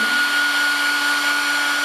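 A hair dryer runs steadily at close range drying Polaroid photographs, a loud, even whir with a constant hum and no pauses.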